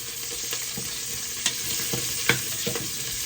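Onions sautéing in a clay pot, stirred with soft scraping and light sizzling, a few sharper spoon knocks standing out against a steady background hiss, no talk.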